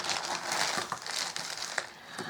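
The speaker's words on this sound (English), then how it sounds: "apologies for the noise of the bags" Plastic bags crinkle and rustle continuously at close range while clay is packed away, with dense crackling bursts and a few sharper snaps, no voices.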